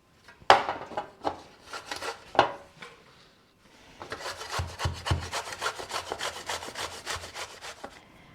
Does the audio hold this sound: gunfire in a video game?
no